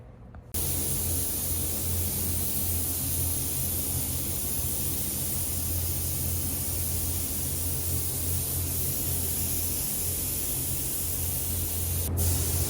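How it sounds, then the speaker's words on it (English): A spray gun lays plain Hemi Orange PPG shop-line paint onto an engine in a shop, a steady unbroken hiss that runs loud and continuous from start to finish with a low hum underneath. "Alright, Chris is ready to spray it."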